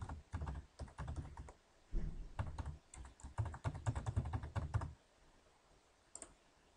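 A username and password are typed on a computer keyboard during a cloud login, with quick, close clicking bursts for about five seconds, then a pause and one last faint tap. No voices.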